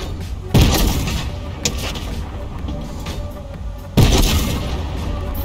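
A tank turret fires in a video game, two heavy booming blasts about three seconds apart, each followed by rumbling decay, with a lighter thump between them over continuous engine noise.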